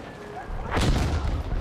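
A heavy explosion booms through the Battlefield V battlefield, a broad low-heavy blast that swells in and rumbles on for about a second after a quieter stretch of combat ambience.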